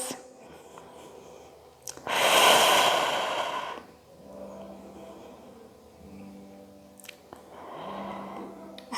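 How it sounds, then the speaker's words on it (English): Deep, audible breaths during a guided movement class, a long loud exhale-like rush followed by two softer breaths, with faint low voice-like hum between them. "And we breathe. Two more breaths."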